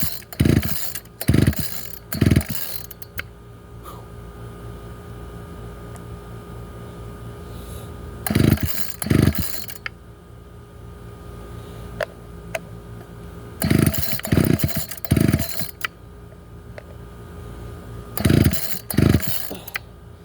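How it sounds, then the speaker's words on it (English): An old Ryan string trimmer engine in need of a carburetor adjustment sputters to life in short bursts, revving briefly several times between stretches of quieter idling, close and loud, with no talking. "Okay, so I got it running a little bit, but it needs a carburetor adjustment."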